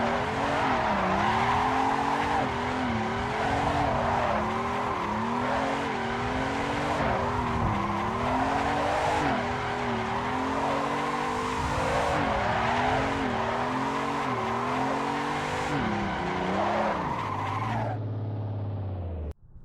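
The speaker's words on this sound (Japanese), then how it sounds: "後方視点からの定常円旋回です" Sustained tire squeal and a wavering engine note as a car drifts in a steady circle in the racing game Assetto Corsa, loud and continuous, with the revs rising and falling rhythmically, then cutting off abruptly near the end.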